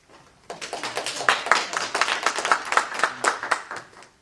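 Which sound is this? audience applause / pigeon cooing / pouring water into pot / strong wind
audience applause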